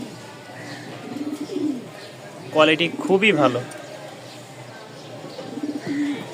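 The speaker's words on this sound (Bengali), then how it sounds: "একদম আগুন কোয়ালিটির এক জোড়া কবুতর" A pair of black pigeons kept for flying coo in soft, low throaty bursts that rise to a louder cluster midway, heard under someone talking close by.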